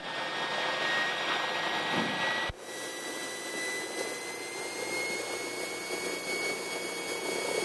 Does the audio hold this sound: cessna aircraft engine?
yes